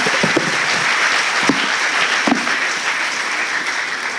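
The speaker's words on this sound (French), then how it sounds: "vous pouvez applaudir encore une fois très fort nos 5" Loud, sustained applause from an audience at an entrepreneurs' forum debate, thanking the speakers, a dense steady wash of clapping from start to finish with a few sharper claps standing out.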